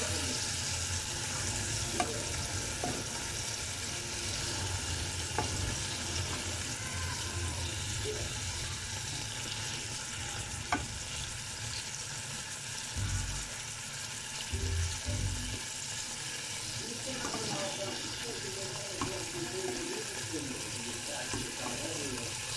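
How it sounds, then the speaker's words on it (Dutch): Meat frying in a pan, a steady soft sizzle running throughout with occasional stirring clatter and brief low thumps, fairly faint and close. "Ik ben mijn vlees aan het bakken."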